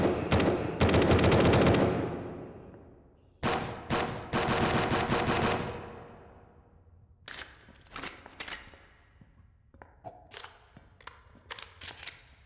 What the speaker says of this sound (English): the gun sounds could use a bit of a facelift, so I got rid of the old sounds that I made for Ludum Dare and made new ones completely from scratch for shooting and reloading.